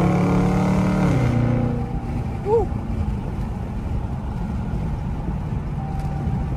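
A Dodge Charger Scat Pack accelerates onto a highway. The engine's rising roar fades after about two seconds into steady road and wind rush inside the car.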